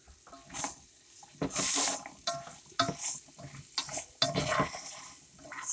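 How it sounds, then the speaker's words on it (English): Quartered carrots and mushrooms sauteing in a pan, stirred in quiet bursts of sizzle and scraping utensil strokes against the pan bottom, close and irregular, with no talk. "sauteing these to get that flavor up off the bottom"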